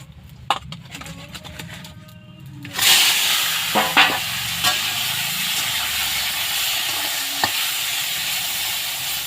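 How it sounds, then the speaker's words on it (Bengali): Fish rubbed with salt and turmeric hits hot oil in a kadai with a sudden loud burst of sizzling spatter, then keeps frying in a steady, close hiss; a few light clatters come before it starts. "তো মাছটা আমি এখন ভেজে নেব।"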